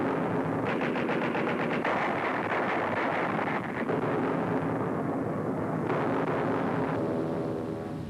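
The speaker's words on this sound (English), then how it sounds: "Pom-poms, anti-aircraft guns blaze into action." Anti-aircraft guns and pom-poms firing at Nazi bombers on an Arctic convoy, rapid bursts of repeated gunfire with booming blasts over rushing wind noise, dense and continuous.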